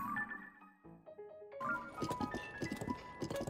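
Horse hooves clip-clop in The Legend of Zelda: Tears of the Kingdom, a rapid trotting rhythm of light hoof taps over the game's background music.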